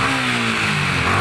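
A Yamaha Sniper 155 motorcycle engine revs hard and holds near 7,000 RPM, a loud, steady, high-pitched engine drone filling the whole short moment with no talking.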